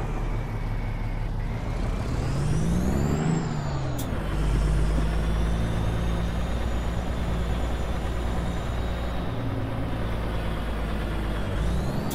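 Heavy truck engine droning steadily in American Truck Simulator, with a sharp hiss of air brakes around the middle and a continuous low rumble throughout, no voices.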